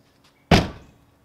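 A single solid thunk as an Acura RSX car door swings shut and latches, one sharp close-up impact that quickly fades, with no voices.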